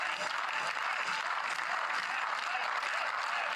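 A stadium crowd at an athletics meet in Eisenstadt, Austria, claps steadily for athlete Klotz, a continuous even wash of applause with no breaks.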